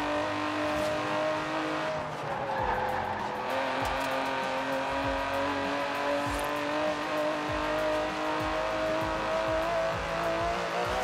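An Aston Martin DB11's 5.2-litre twin-turbo V12 drones steadily at speed in the Forza Horizon 4 racing game, a constant loud engine tone with rhythmic thumps and faint tyre noise, no voices.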